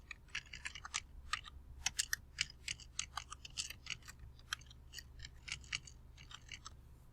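Light, quick keystrokes tap on a computer keyboard in an irregular patter, close and fairly quiet, with a low hum underneath and no talking.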